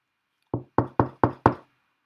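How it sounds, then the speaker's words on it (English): Five sharp knocks on a hard surface, struck close by in front of a dog, evenly spaced in a quick steady series with nothing else heard around them. "I'm knocking right in front of you."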